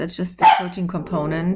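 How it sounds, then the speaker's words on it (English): A pet dog barks once, close and loud, cutting across a person who keeps talking indoors. "That was my dog."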